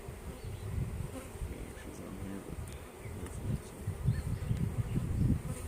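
Honey bees buzz steadily around a large open hive during a full inspection, a dense close drone that swells and fades with one guard bee circling near, continuing throughout.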